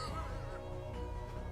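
Chickens in the video game dotAGE squawk and honk in a brief, continuous, fairly loud burst of harsh fowl calls with no speech.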